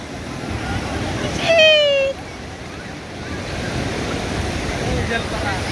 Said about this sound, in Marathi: आता पाहू शकता किती लाटा चाललेल्या आहेत